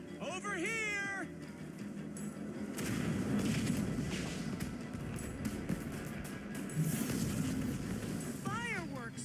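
Fireworks burst repeatedly in the video game Minecraft: Story Mode, loud crackling blasts mixed with wailing creature cries and a voice speaking.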